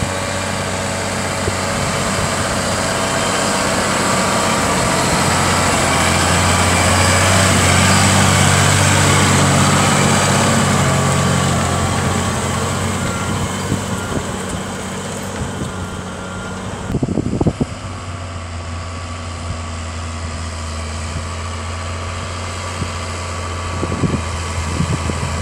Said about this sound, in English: we've got a Massey Ferguson tractor here, 6480, with a 5 power and vertical plate